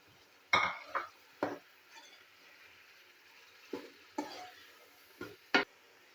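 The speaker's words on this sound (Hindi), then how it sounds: "इसको अच्छे तरीके से मिक्स करेंगे।" Chicken being stirred into fried masala in a pan, heard as a handful of separate scrapes and clinks of a spoon against metal over a faint background sizzle, close and fairly quiet with pauses between strokes.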